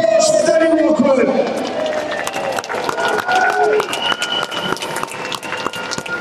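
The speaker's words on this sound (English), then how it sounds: "A big massive round of applause" A large crowd at a London protest rally cheers and applauds, loud at first and then settling into scattered clapping and whoops, with voices shouting over the noise.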